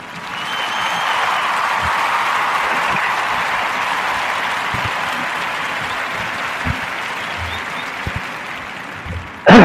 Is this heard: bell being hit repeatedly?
no